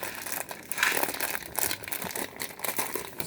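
Plastic wrapping on a Gan 3x3 Rubik's Cube package crinkles and tears in a steady run of close, fairly quiet crackles while someone struggles to open it.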